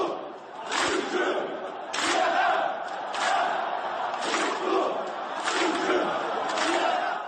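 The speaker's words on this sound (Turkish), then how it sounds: "Türkiye tezahüratlarıyla tribünleri inletti." Tractor football club fans in an Iranian league stadium chant Türkiye in a rhythmic, repeated roar, a large distant crowd rising and falling in regular waves.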